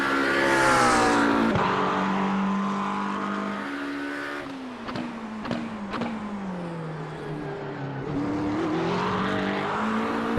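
A race car engine in an iRacing replay heard from an off-board view roars past, rising and falling in pitch with gear shifts and brief tire chirps, loud and close, with no talking.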